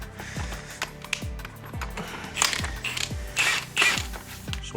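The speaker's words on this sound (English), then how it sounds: "Just using this kind of spring compressor." A spring compressor ratchets and creaks as it squeezes an H&R coil spring from a Mercedes A45 AMG, giving regular metallic clicks that ring briefly, with louder scraping strain in the second half and no talk.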